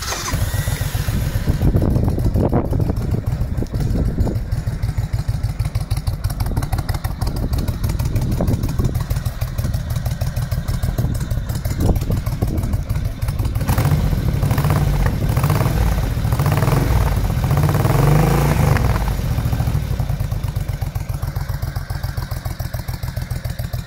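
A 1999 Suzuki VL1500 Intruder cruiser motorcycle, rated at 50 kW, cranks and fires up, then settles into a steady, loud, throbbing idle with occasional throttle blips, heard close and alone.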